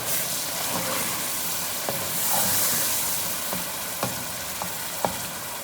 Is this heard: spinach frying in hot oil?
yes